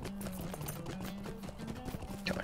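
Quick, steady clip-clop of a ridden horse's hooves in the Lord of the Rings Online video game, a close rhythmic patter of thuds without any speech.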